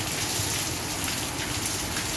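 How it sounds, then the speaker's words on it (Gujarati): Light rain falls steadily over a village farm, a soft, even hiss of drops with no talking. "તો વરસાદ વરસે છે ધીમો ધીમો ધીમો"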